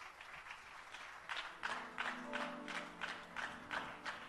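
Audience clapping at a church award ceremony, beginning faintly and then swelling into a run of steady rhythmic claps at close range, with sustained organ or keyboard notes underneath.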